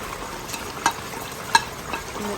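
Crab curry being stirred in a pan after fennel powder and pepper powder go in, giving a soft sizzle with a few light scraping clicks from the spoon.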